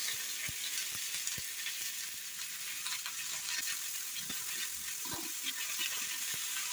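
Chopped onion fries in hot oil for bitter gourd curry, making a continuous close sizzle with scattered pops and light clatter over several seconds.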